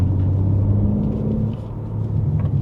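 Deep, steady rumble of a brand-new BMW G80 M3 engine heard from inside the car while driving, loud and continuous, easing slightly midway before building again.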